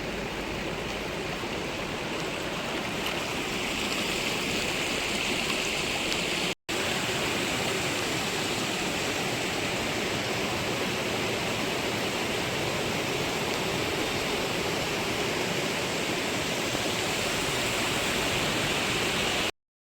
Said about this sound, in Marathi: नदी फुल प्रेशरमध्ये वाहत आहे नदीला पूर आलेला आहे